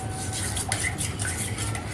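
Yellow mica powder being stirred into oils for a sugar scrub, a close, continuous swishing and light scraping of a utensil in a container.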